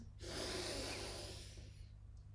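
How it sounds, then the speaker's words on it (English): A single deep inhale during a breathing exercise: one soft, close breath drawn in for over a second, then tapering into quiet. "And breathe in."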